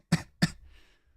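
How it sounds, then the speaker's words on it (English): Two sharp coughs about a third of a second apart, fairly close, followed by a faint breathy trail. "Is that the cough that you were referring to"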